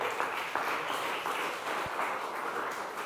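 A church congregation breaks into steady, moderately loud applause during a sermon, a continuous blend of many hands clapping without a voice over it.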